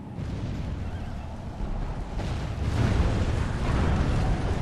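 Cannon batteries open fire in a Medieval 2 Call of Warhammer battle, a dense rolling rumble of booms that swells louder partway through, with no voices.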